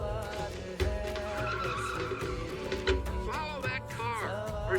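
Car tires skid and squeal repeatedly in a movie car chase, with sharp rising and falling screeches over engine noise and a busy mix of background sound.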